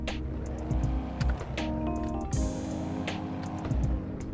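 SSC car engine from a Roblox car video game, a synthetic engine note revving up and dropping in repeated short pulls, moderately loud with gear-change-like breaks and no talking.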